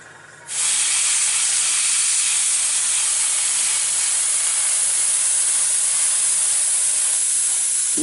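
Spray paint hisses from an aerosol can onto the tracks of a model Tiger tank, a sudden loud continuous hiss that starts after a brief pause and holds steady to the end.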